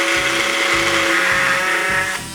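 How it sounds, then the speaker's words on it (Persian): Electric saw with a wood-cutting blade running continuously through a piece of wood, a loud steady whine with strong harmonic bands and a rhythmic low pulsing as the cut proceeds, ending as the blade finishes. "با این دستگاه خیلی راحت میتونید دستگاه رو اینجا قرار بدید و روشنش کنید و ببینید خیلی راحت اره کنید"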